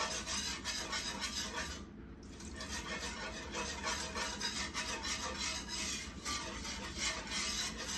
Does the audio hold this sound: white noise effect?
no